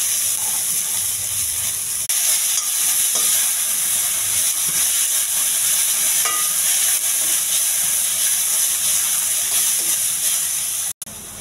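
Curry leaves, cumin and onions fry in a pan with a steady, bright, close sizzle and hiss that runs unbroken throughout, with a few faint stirring knocks.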